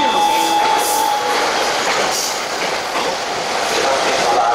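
Commuter train pulling into a Tokyo station platform during the morning, a loud steady rumble of wheels and carriage noise with faint tones and station background throughout.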